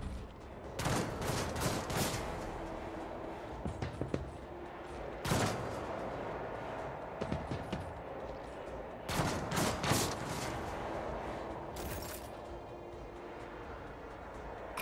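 Gunfire from the video game Warhammer 40,000: Rogue Trader comes in several sharp, loud volleys of rapid shots, spaced a few seconds apart over a quieter background hum.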